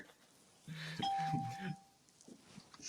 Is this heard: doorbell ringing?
yes